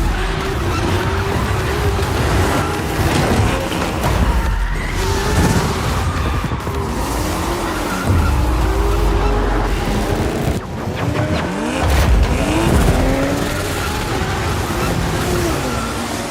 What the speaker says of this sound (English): Suddenly he finds himself in the middle of a drift race.